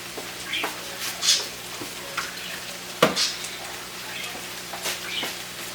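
Longaniza and nopales sizzle in a pan as tomato sauce is added, bringing a constant frying hiss with several sharp spatters and stirring clatters.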